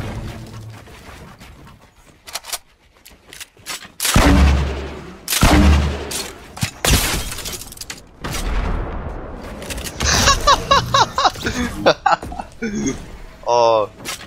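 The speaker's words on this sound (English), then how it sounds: "Grenade launcher. It's pretty good." Heavy booming blasts from a grenade launcher in Fortnite, several loud explosions and gunfire bursts spaced across the stretch, with a player talking over the action.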